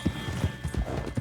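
Horse hooves clip-clop in a steady, close gait in the Western video game Red Dead Redemption 2, a run of repeated low thuds with no talk over them.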